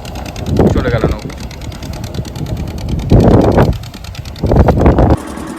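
Motorboat engine of fishing boats moving through waves in the Sundarbans, a steady mid-pitched drone running throughout, with louder surges as boats pass, under people talking.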